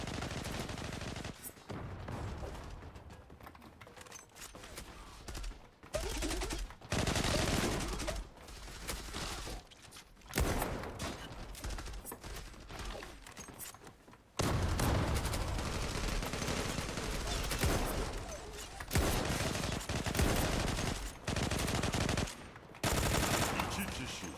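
Gunfire in the online shooter Zula during a team deathmatch, with long, dense bursts of rapid automatic fire broken by brief pauses, loud and close throughout.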